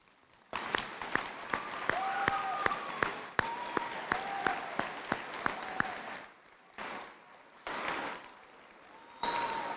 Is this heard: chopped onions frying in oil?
no